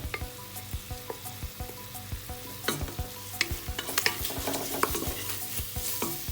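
Onion, ginger, garlic and green chilli sautéing for chicken biryani in a pan, a steady close sizzle broken by frequent sharp scrapes and knocks of a spoon stirring.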